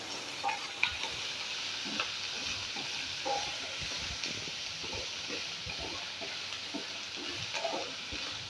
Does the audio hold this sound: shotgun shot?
no